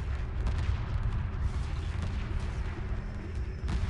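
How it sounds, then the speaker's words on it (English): Dense, continuous rumbling shell explosions and artillery-like booms from the Homeworld 2 Remastered space strategy game, loud and unbroken throughout, with a few sharper cracks layered over the low roar. "Look at those explosions just from the shells hitting"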